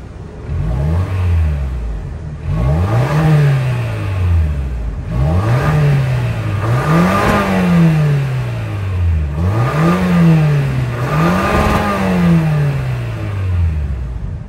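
The 2.4 liter turbo four-cylinder of a 2024 Toyota Grand Highlander Limited, with dual exhaust, is revved repeatedly from idle. About six loud, close rising-and-falling swells come in a steady rhythm, with no talking.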